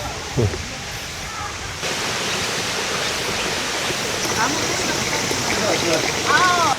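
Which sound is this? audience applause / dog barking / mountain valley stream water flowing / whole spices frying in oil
mountain valley stream water flowing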